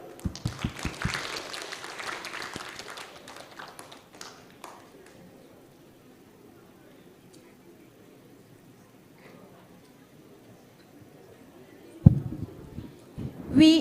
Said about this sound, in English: Please give huge round of applause